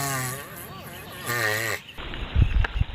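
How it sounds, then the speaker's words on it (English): A Sulcata tortoise gives deep mating calls, two long wavering, bleat-like moans up close, followed by a burst of low thumping and scuffing noise. "Deep mating sound from Sulcata tortoise."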